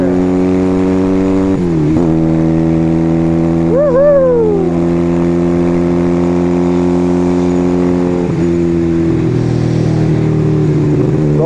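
A motorcycle cruises along a country road with a steady, close engine drone, a brief rising rev in the middle and a gear change shortly after, then a settled hum until the end.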